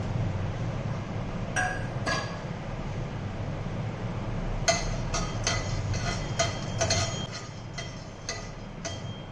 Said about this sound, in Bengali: দিয়ে দেবো গোলমরিচ লবঙ্গ এলাচ দারচিনি এগুলো দিয়ে শুকনো খোলায় ভেজে নেব